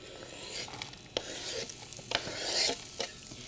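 Quarter of a large onion and a big garlic clove stir-fried over high heat in a pan, with a steady sizzle, scraping stirs and a few sharp utensil clinks against the pan, close up.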